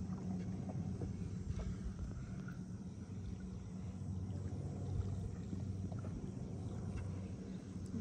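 Boat ride on the Budhi Rapti river in Chitwan National Park, Nepal: a steady low engine-like rumble with constant wind buffeting the microphone, continuous for the whole stretch and no talking.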